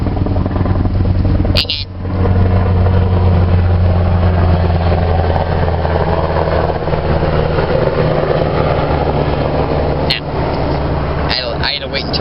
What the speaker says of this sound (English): I had to wait until that helicopter went by because of how loud it is